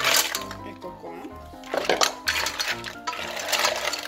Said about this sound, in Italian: A questo punto aggiungiamo le cozze